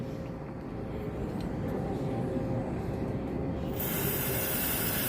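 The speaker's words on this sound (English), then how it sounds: "So when you spray carburetor cleaner in there, it should come out here in the top of this tube" Steady hissing spray from an aerosol can of carburetor cleaner into a lawn mower engine's fuel system, continuous and close, brightening sharply toward the end.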